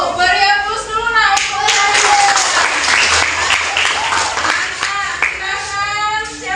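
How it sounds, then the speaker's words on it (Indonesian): Classroom applause for a student group after their presentation, with students clapping together in a dense, steady burst that fades near the end, with voices mixed in. "Beri aplaus dulu nak."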